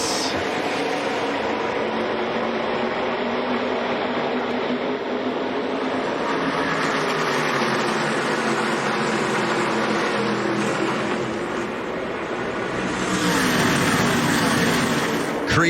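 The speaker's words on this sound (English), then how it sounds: "I love hearing those trucks thunder off turn 2." NASCAR Truck Series pickups race off a turn at Texas, their engines roaring loudly in a continuous, steady wall of sound that swells slightly near the end.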